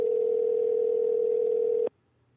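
A steady telephone dial tone from a dropped call hums loud and unbroken for nearly two seconds, then cuts off abruptly into near silence.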